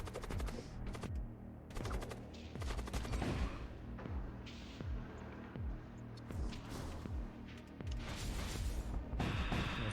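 Double burst laser weapons fire in the Void War space combat game, rapid repeated bursts of sharp zapping shots layered over one another in an almost continuous barrage.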